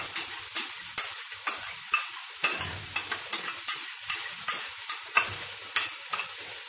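Finely chopped onions sizzle in a pan for an Italian sauce, with regular scraping strokes of a spoon roughly every half second over the frying hiss.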